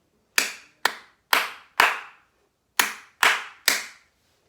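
Sharp hand claps in a rhythm drill during a music lesson, seven crisp claps in two groups, the first four evenly spaced and the last three after a brief pause, close and clear with no talking.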